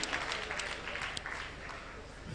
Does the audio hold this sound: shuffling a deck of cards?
no